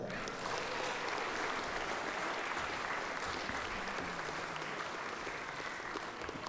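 Audience at a Christmas concert by the ensemble Fusion in Písek breaks into a dense, steady wash of applause, many hands clapping at once, filling the room evenly for the whole stretch without speech.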